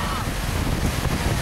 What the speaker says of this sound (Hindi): उसी वक्त पानी का बहाव तेज हो जाता है जिस जगह को ये पार करने की कोशिश करता है